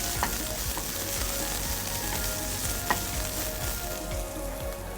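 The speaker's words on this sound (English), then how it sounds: "Sweating my onions." Chopped onions sweat in oil in a frying pan for a breakfast frittata, giving a steady close sizzle with occasional soft utensil clicks and no voices.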